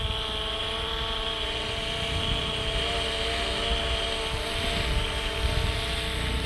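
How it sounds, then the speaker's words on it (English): A Fimi X8 SE camera drone hovers and flies overhead, giving off a continuous, even, high buzzing whine with layered harmonic tones, heard alone at moderate loudness throughout. "So the drone is following me now"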